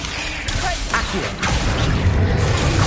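Accio summoning spell in Hogwarts Legacy battle, a quick whooshing pull with sharp whacks and crashing impacts, loud and close, followed by a rumbling swell.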